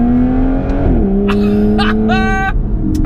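Stock V12 exhaust of an Aston Martin Vanquish S Volante convertible, a loud, close engine drone that climbs and dips through revs, with sharp higher-pitched spikes from quick throttle blips.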